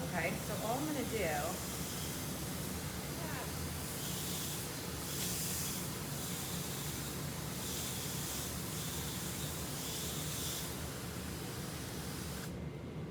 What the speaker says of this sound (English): I do have a hose that has a really fine spray like this